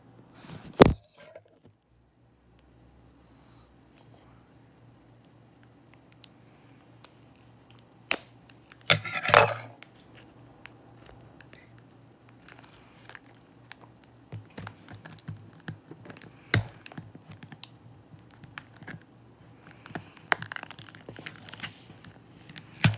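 Plastic packaging of a Choro-Q toy trolleybus, a 2018 Kanden Tunnel model, is fumbled open in a quiet room, giving sparse crinkles, taps and snaps, with a louder rustling burst midway and more crackling toward the end.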